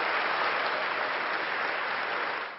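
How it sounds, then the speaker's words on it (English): Crowd applause at an independent living hall of fame induction ceremony for Ed Roberts, a dense, steady clapping that stays loud throughout and eases off slightly at the very end. "Crowd applause."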